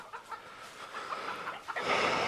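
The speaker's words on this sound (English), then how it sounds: "There's Kateri, our one-legged chicken." A one-legged backyard hen clucks softly among other chickens, low and steady against a rustling, breezy outdoor background.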